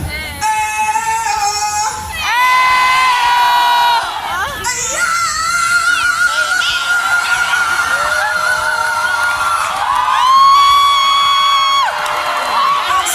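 A lively crowd at a Philippines meet and greet cheers, shouts and whoops loudly over a sustained, singing-like chant, swelling in bursts with children's high voices prominent.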